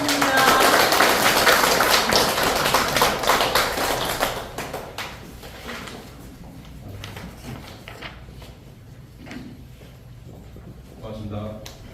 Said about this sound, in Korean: 선생님 힘찬 박수 부탁드리겠습니다